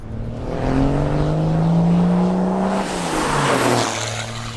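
Cummins turbo diesel engine in a lifted Ram D250 drift truck revving up loud and close with a deep harmonic drone, then a second rising rev near the end, no voices.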